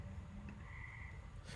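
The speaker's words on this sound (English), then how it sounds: "Them frog back there." Frogs croaking somewhere out of doors in the background, faint and low behind a steady ambient hum, with a brief higher tone partway through.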